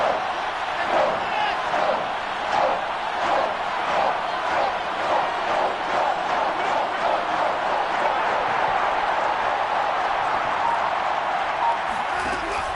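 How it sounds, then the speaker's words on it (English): Stadium crowd in a Dolphins franchise video football game, a broad roaring cheer building before a big third down, steady and loud, with a commentator talking over it. "the crowd getting into it as we come up on a big 3rd down"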